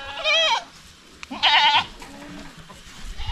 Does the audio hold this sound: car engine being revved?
no